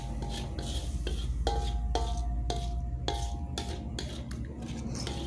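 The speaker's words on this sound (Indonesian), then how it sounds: "ini kita tambahkan udang. Kita oseng-oseng sebentar, lalu kita tambahkan air." A metal spatula scrapes and clinks rhythmically against a pan while shrimp stir-fry for Mie Aceh noodle soup, the close, steady strokes over a low sizzle.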